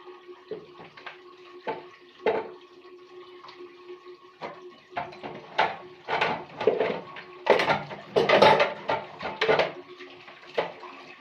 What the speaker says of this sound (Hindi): अभी मैं बर्तन धो रही हूँ